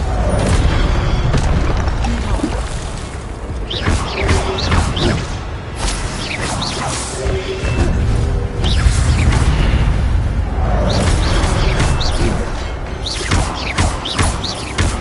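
Spell-casting effects in the video game Hogwarts Legacy, with repeated booming bursts, whooshes and crashes of a disarming spell, loud and continuous over a dense game soundtrack.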